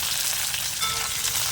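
Baby potatoes, crushed garlic and curry leaves frying in a pan, a steady close sizzle with crackling oil running throughout without a break.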